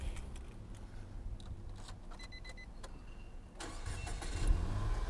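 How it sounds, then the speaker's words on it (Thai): A 2011 Nissan March engine cranks and catches near the end, settling into a low rumble after a few seconds of quiet mechanical clicks and whirring. "เดี๋ยวเรามาลองสตาร์ท ฟังเสียงเครื่องยนต์กันบ้างนะครับ"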